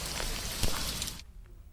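Rain falling in Jaipur, a dense close patter on hard surfaces that cuts off abruptly near the end, leaving faint drips.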